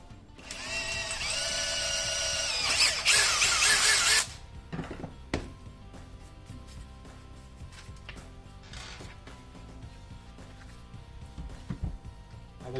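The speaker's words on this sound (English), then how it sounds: "And you're drilling through plastic" A drill bores through a plastic dashboard accessory mount for a 2016-or-later Toyota Tacoma, giving a loud, steady whine for about four seconds, followed by quieter handling noises.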